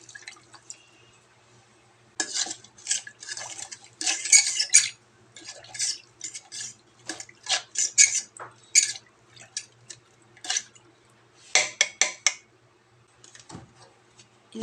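Water trickles into a cooking pot already holding vinegar and fish sauce for paksiw na galunggong. Uneven drips and splashes come in short clustered bursts with clinks, close and fairly quiet, with brief pauses between.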